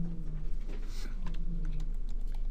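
Quick keystrokes on a computer keyboard, a short burst of light clicks in an irregular patter over a steady electrical hum, close and fairly quiet.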